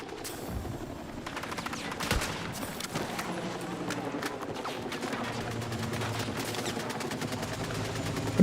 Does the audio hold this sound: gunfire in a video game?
yes